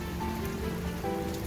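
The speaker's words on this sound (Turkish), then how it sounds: "Bugün yağmurlu." Rain falls steadily on a work site with a tent nearby, a dense even patter close by with faint tonal hum underneath and no talking.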